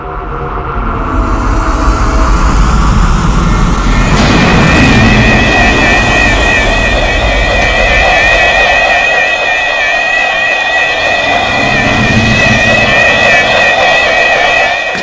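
Spaceship engines throttle up with a swelling low rumble that builds into a loud sustained roar, overlaid by rising and then steady high whining tones.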